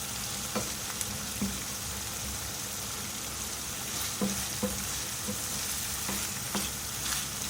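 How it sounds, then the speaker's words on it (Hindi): Minced meat and tomatoes frying with a steady, close sizzle in a pan over high heat for capsicum qeema, with a spoon scraping and clinking against the pan now and then. "कीमे की मैंने थोड़ी सी भुनाई कर ली है।"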